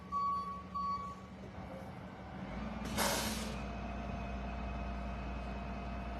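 At a roadside police scene, a suspect's truck is moved: a few reversing beeps sound early, then a sharp hiss of air brakes, all over a steady low engine idle, faint and somewhat distant.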